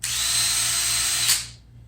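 A power drill spins steadily while boring holes in a guitar body for string ferrules, a continuous high whine that holds for over a second and then cuts off as the motor winds down.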